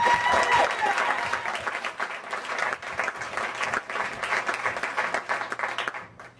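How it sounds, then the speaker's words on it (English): An audience at a community talk event applauds a speaker, loud clapping at first that gradually thins and fades toward the end, with faint murmuring underneath. "So let's give him a round of applause."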